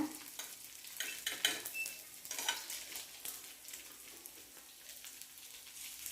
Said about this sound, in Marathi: आपण आता परतवून घेऊया वडी. एकसारखं असं सगळीकडून भाजून घेऊया.